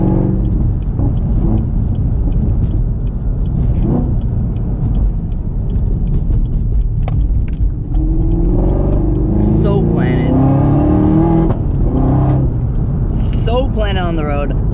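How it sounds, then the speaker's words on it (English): A 2019 Camaro ZL1 1LE engine rumbles steadily from inside the cabin, then revs up in rising sweeps with rev matching on downshifts, loud and close throughout. "Oh, I forgot that the rev match is on."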